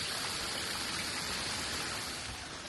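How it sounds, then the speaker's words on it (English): Rainwater rushing down a mountain path after a heavy overnight downpour near Florianópolis, a steady broadband wash of flowing water, close and continuous, with no voices. "After last night's heavy downpour, the rainwater was still coming down mountain"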